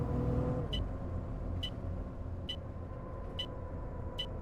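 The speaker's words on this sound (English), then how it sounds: "This bus does sound good." A bus engine in the OMSI 2 simulator drones with a low steady rumble, while an indicator clicks at even intervals over the idling hum.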